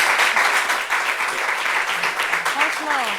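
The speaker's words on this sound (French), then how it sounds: "Je voudrais qu'on applaudisse ce pasteur" Audience applauding a pastor at a church gathering, a dense, steady wash of clapping from many hands throughout, with a voice rising briefly over it near the end.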